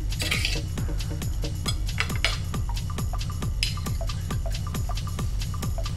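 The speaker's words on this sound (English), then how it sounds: "Let's pull it apart." Utensils pull apart cooked smothered chicken in gravy, giving close, irregular metallic clinks and taps over a constant low hum, with no voices.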